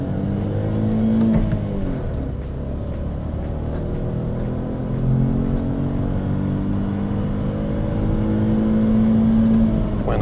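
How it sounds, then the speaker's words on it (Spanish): A Kia Stonic crossover with a 1-litre mild-hybrid engine accelerates hard in Sport mode, its steady engine drone rising in pitch through the gears, loud and close from inside the cabin with no talk. "Ahora voy a parar aquí para probar la aceleración."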